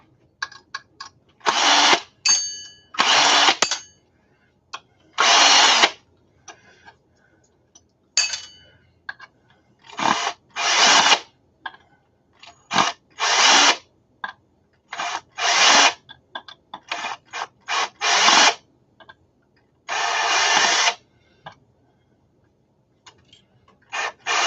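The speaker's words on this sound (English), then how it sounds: "Some of these have like 8 screws in the center, and you usually get one screw that don't want to come out." A power drill works screws out of hard drives in repeated short whirring bursts, each lasting a second or two and separated by quiet gaps, close and loud throughout.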